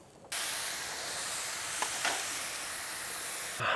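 Whey poured into risotto rice in a hot pan, a sudden loud steaming hiss that starts abruptly and holds steady for a few seconds before cutting off.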